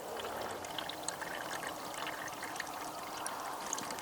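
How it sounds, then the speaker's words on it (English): Water poured into the water reservoir of a Weber kettle smoker set up for pulled pork while charcoal heats, a steady close splashing trickle that runs the whole time with no talk over it. "So I'll just fill this water reservoir up real quick while the coals are getting warmed up there."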